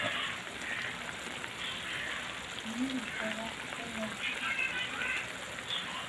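A pot of native chicken with chayote and chili bubbles and simmers in a continuous, close, crackling burble, with a voice talking softly over it.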